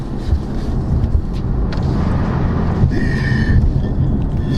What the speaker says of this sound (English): I gave it half throttle and this thing just pinned me back to the seat